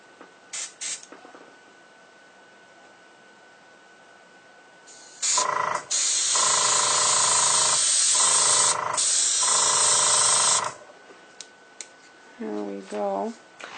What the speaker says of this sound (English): Now I'm going to just airbrush the leaves for the tree.